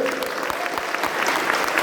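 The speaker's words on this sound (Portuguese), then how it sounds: "Uma salva de palmas para as companheiras." A metalworkers' union convention audience breaks into loud, sustained clapping that stays full and even throughout, with no speech on top.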